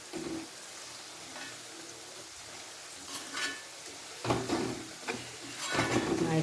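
A fish pickle mixture with turmeric being stirred in a pan, with quiet scraping and sizzling strokes that come in short bursts and grow busier toward the end.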